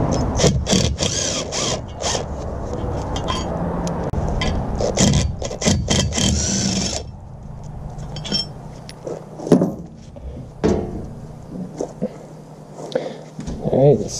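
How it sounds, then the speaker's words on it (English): Metal bolts being removed from a 1925 cast-iron chain mortiser, with clinks, rattles and scraping handling noises close by, interrupted by bursts of talk. "So I just been taking off these bolts here."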